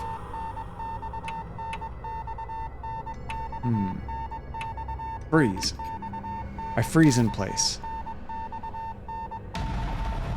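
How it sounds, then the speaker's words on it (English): A steady telegraph-like beeping repeats incessantly in the horror game Death Mark, a thin regular tone running throughout while someone speaks over it in short bursts. "There's an incessant beeping, like from a telegraph."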